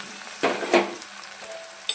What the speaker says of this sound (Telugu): ఇలా పచ్చిమిర్చి, ఆవాలు, జీలకర్ర అన్నీ వేసాక ఉల్లిపాయ వేసాను.